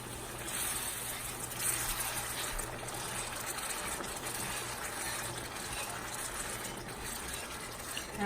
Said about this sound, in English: you slowly pour in. You start with 2 cups of water.